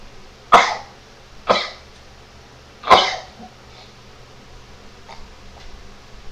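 Three separate coughs from a person with a cold, close and fairly loud, spaced about a second apart, followed by a few faint small sounds in a quiet room.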